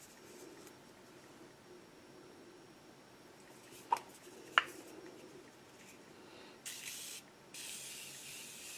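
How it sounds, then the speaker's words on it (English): Two faint clicks, then a couple of soft misty sprays of makeup setting spray hiss in short bursts, quiet and close, with no talking. "to fix the look, I'll be using my Morphe setting spray"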